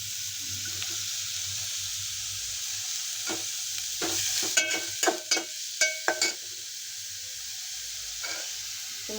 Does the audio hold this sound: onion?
yes